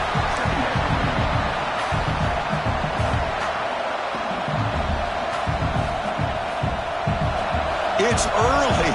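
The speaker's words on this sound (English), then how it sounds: "It's early, but this crowd is fired up. Listen to this noise here." A stadium crowd at a football game keeps up a dense, continuous roar of cheering, with a commentator talking over it throughout.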